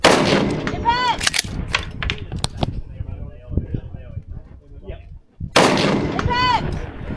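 Rifle shots at a carbine shooting match ring out as a few sharp, loud cracks, with talk in between.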